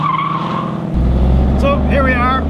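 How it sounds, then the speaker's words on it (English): A classic car on a test drive gives a steady engine drone that deepens into a low rumble. A voice talks over it partway through. "go take this for a test drive in a classic car"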